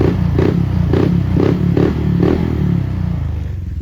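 A motorcycle with a PAVTA Indo aftermarket exhaust pipe revs repeatedly in short bursts with a rhythmic pulsing exhaust note, loud and close, settling toward idle at the end.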